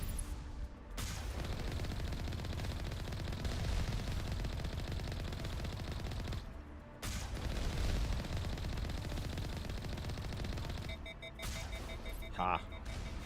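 Turret guns fire in the Mass Effect video game: dense, continuous rattling bursts of gunfire with brief pauses between volleys, closing with some sharper electronic tones.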